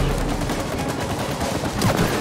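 Rapid, dense gunfire from the video game It Takes Two crackles continuously at loud volume, with overlapping shots forming a steady barrage and no gaps.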